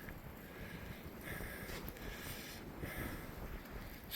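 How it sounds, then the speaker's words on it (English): Strong wind roars steadily through a snow storm, a dense broadband rush with surges that swell and ease over a few seconds, heard alone without voices. "it's very windy out there"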